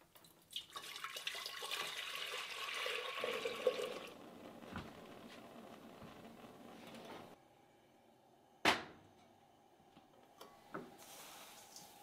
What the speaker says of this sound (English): So let's get some water on the stove here and give this a try.